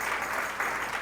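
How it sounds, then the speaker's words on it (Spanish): A church congregation claps together in sustained, steady applause during a sermon on tithes and offerings, with a dense, even patter throughout and no voices breaking through. "No le da un aplauso usted al Señor por eso"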